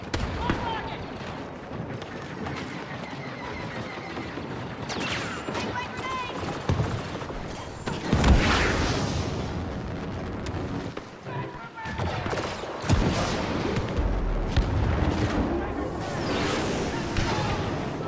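Explosions and bursts of gunfire from a video game firefight, with a grenade blast among them, loud and repeated throughout, with speech mixed in.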